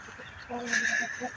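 A rescued rooster gives a brief, close, honking cluck that rises and fades within a second, in a farmyard that also keeps ducks.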